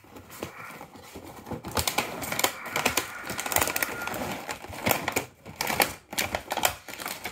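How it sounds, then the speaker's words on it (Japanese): Unboxing a rare anime figure, a girl in a sailor uniform: dense crackling, tearing and rustling of cardboard and plastic packaging, close and fairly loud, in continuous bursts with brief pauses, no talking. "では、早速開封いたします。"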